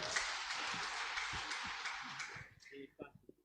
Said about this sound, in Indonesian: Beri tepuk tangan dulu buat Opa